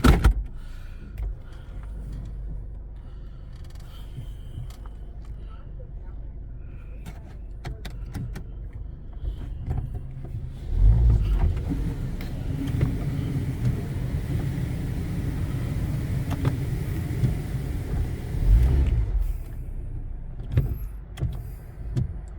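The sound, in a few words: Futura Impulse touchless car wash running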